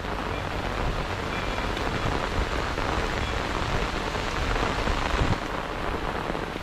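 Heavy rain pouring down steadily, a dense, even hiss of drops on surfaces filling the whole stretch, close and continuous with no voices.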